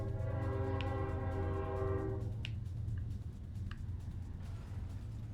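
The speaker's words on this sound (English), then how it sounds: "There might be a train outside my house. There is a train." A train passes outside a house with a loud sustained horn blast for about two seconds over a steady deep rumble of rolling wagons, then the horn stops and the rumble continues close by with a few faint clanks.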